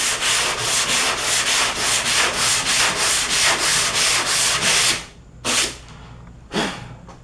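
Body filler on a repair panel being sanded in a crisscross pattern, a loud, steady rasp of rhythmic back-and-forth strokes for about five seconds, then two short separate swipes with quiet between.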